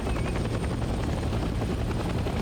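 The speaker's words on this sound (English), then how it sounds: "Bro, the helicopter is going on." A military helicopter in the Vietnam-era shooter Hell Let Loose makes a loud, continuous rotor thump and turbine roar, steady and close throughout with no talking.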